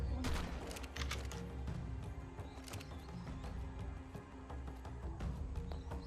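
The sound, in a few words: shotgun fire in the video game ARK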